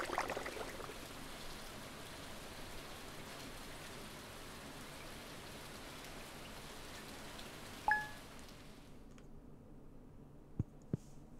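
Steady rain falls in Stardew Valley as a continuous hiss with faint ticking drops, then cuts off abruptly near the end, leaving near silence broken by a chime and a couple of soft clicks.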